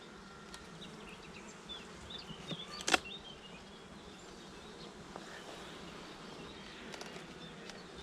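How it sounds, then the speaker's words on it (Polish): Many honey bees at a hive hum in a soft, continuous drone, with occasional louder buzzes as individual bees pass close by. "z miodni dosypię troszkę pszczoły"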